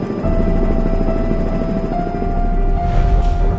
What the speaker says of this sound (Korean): 하늘을 나는 응급실 닥터 헬기